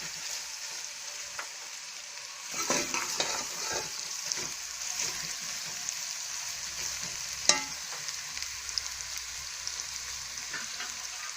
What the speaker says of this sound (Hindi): और टिंडों को थोड़ी देर भून लेंगे